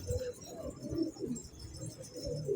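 Soft repeated pigeon coos rising and falling in a steady rhythm, fairly close and clear, with low throaty calls continuing throughout with no talking.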